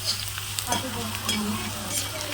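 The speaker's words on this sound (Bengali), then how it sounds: "এইভাবে সবকটা পাঁপড় কিন্তু আমার ভাজা হয়ে গেল" Small colourful red, green, yellow and white papads frying in hot oil, a steady close sizzle with a few light stirring scrapes throughout.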